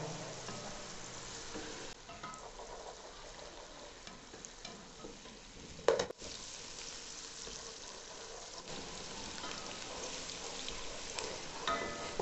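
Onions frying in a pan for potato korma, a soft continuous sizzle with a sharp clank or stir near the middle, quiet and steady with no talking.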